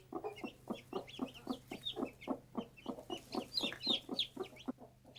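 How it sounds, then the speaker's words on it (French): Newly hatched chicks beside a brooding hen make a rapid, steady run of soft, high peeps, close and fairly quiet, with a low hum running underneath throughout. "Quelques petits cris aigus annoncent enfin la sortie des poussins"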